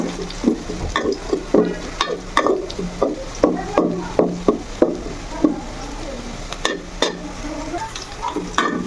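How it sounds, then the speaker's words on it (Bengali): Onion frying in a pan for a puffed-rice dish, with steady oil sizzle under repeated scraping stirs of a spatula, close and fairly loud, no talking. "তো পেঁয়াজটা ভাজা হয়ে গেছে"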